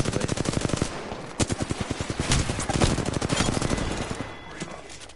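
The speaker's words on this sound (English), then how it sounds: "Oh, they're shooting from across the way." Sustained video game gunfire rattles in rapid automatic bursts of shots from across the way, loud and nearly continuous, with heavier single reports mixed in and no talk over it.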